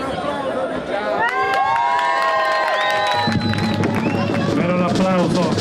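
A loud crowd cheers and shouts continuously at an outdoor evening gathering at the Infiorata in Castelbuono, Sicily, with many voices and whoops overlapping throughout.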